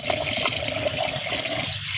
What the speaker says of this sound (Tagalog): So ayan, lagyan na natin ng tubig.